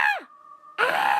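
A loud, harsh scream bursts out and trails off in a falling groan, then after a short near-silent pause with a faint steady hum, a second sustained shriek rings out, harsh and close, part of a frightening horror tale.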